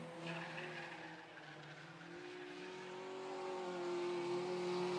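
Sport compact race cars at Phillips County Raceway drone past at a dirt-track night race: a steady engine hum from mid-distance that slowly rises in pitch and swells louder toward the finish.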